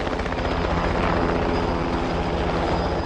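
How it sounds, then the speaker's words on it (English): A helicopter flies close by, its rotor chop and engine roar a loud, steady wash throughout with no talking. "They sent a helicopter to pick up one dying British soldier"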